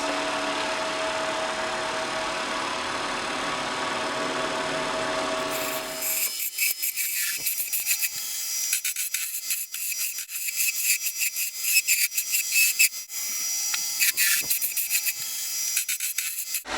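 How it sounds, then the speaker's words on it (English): Skew chisel smoothing a wooden back scratcher turning on a lathe: a steady, dense hiss gives way to a close, rough, continuous scraping with fine crackling texture, with no talking. "A little bit of skew work to see if I can smooth things out a bit."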